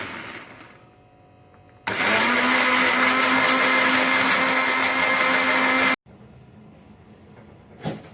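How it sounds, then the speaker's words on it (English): A blender whirs loudly and steadily for about four seconds, blending hot prawn sambal paste, then cuts off abruptly, with quieter kitchen noise before and after. "So now I'm going to blend."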